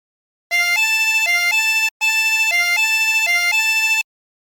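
A 24-hole tremolo harmonica plays a phrase of Turkey in the Straw: sustained reedy chords that alternate between two pitches in a steady back-and-forth pattern, with one short breath gap partway through, loud and alone.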